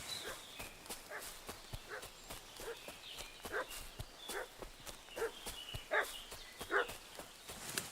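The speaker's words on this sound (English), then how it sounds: "What's that dog making such a fuss about?" A dog barks repeatedly in Kingdom Come: Deliverance 2, faint and at some distance, in a steady run of short yaps mixed with clopping footsteps.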